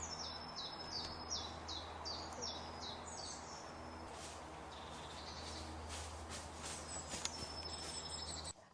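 A firecrest sings in spring woodland near Basingstoke, a rapid run of thin, very high notes repeated several times near the start, with a slight upward squeak at the end, over a steady low background hum.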